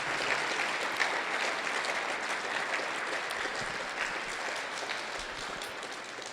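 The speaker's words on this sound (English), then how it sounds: "Give him a round of applause, and thanks for coming here tonight." Steady, dense applause from an audience at a pro-life night presentation at Holy Cross parish in Ipswich, South Dakota, rising as a continuous wash of many hands for about six seconds.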